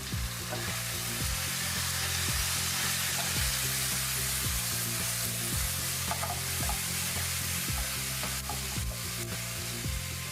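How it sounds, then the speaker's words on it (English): Carrot strips and cut bell peppers stir frying in a pan, a steady close sizzle with repeated scraping stirs at an uneven rhythm throughout, no voices. "Next, add the carrot strips and the cut bell peppers and keep stir frying."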